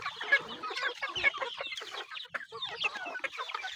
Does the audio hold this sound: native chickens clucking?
yes